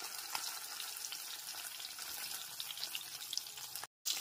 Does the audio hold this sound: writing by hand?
no